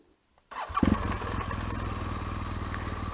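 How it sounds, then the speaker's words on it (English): After a moment of silence a 2013 BMW R1200GS motorcycle engine kicks to life, then settles into a loud, steady rattling idle close by. "it seems to rattle like a good one. It's quite noisy engine."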